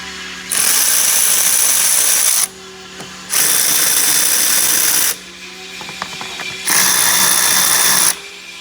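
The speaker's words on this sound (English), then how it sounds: "Literally just going to take off a couple of worm clamps and take the top intake off." A power ratchet or impact driver loosens worm-gear hose clamps on a 2011-2014 Mustang 3.7L V6 intake, three loud sustained whirring bursts of about two seconds each with short pauses and faint clinks between.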